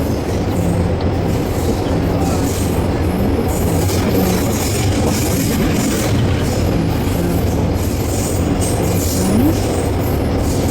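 Loud, continuous rumble of a train at a railway station, with rolling wheels, faint squeals and a dense mechanical roar throughout.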